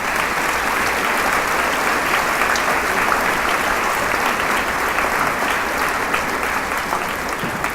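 Audience at a 2018 high school commencement applauds a school band and its director, a loud, dense, steady round of clapping from a large crowd that holds evenly throughout.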